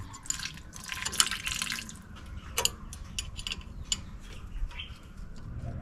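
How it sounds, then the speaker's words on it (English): Water is sprayed over a brake bleeder screw on a 2018 Nissan Frontier pickup to rinse off brake fluid. A close, faint splashing and trickling comes in short irregular bursts, with occasional metallic clicks. "So I'm going to be shooting this bleeder screw down with water because brake fluid is water soluble."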